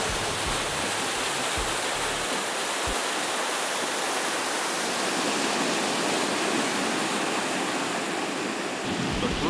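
Nanajipur waterfall near Hyderabad roaring in a steady, loud, unbroken rush of falling water that fills the whole scene, with no voices.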